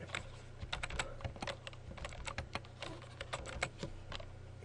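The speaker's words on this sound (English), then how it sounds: "I'm going to type and press tab, type again and press tab, type a third value in and press tab" Close, steady typing on a computer keyboard while entering values into an Excel 2010 spreadsheet, with quick irregular key clicks and periodic heavier taps like the Tab and Enter keys, heard alone with a low hum beneath.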